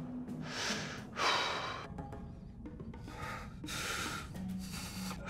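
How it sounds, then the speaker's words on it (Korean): A man trapped in a collapsed tunnel draws deep, slow breaths, several long rasping inhales and exhales heard close and alone in a quiet space. "이 숨을 크게 한번 들이켜 보십시오."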